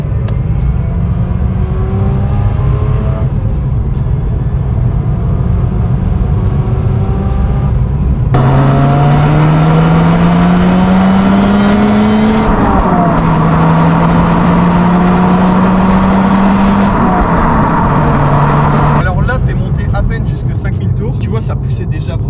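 A Mazda RX-8 rotary engine pulls hard and revs upward through several rising gear sweeps, loud and close, with a droning exhaust tone throughout.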